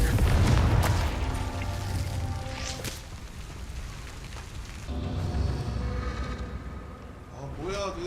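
A Confringo fire spell detonating in Hogwarts Legacy gives a deep booming blast at the start that rolls into a sustained rumbling roar, loud and close, with game effects layered on top and a voice talking over it.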